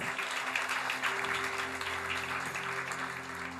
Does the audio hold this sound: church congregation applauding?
yes